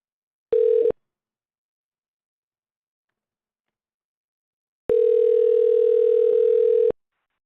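Telephone dial tone while switching to another line: a short steady burst, then silence, then a longer unbroken tone of about two seconds.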